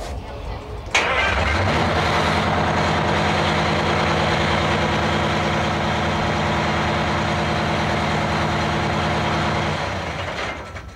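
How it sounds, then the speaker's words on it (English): An airport crash fire truck engine cranks over with a sharp start and then settles into a loud, steady, rumbling idle that runs close and continuous before easing off at the end. "We have switches on the dash that allow me to start the truck."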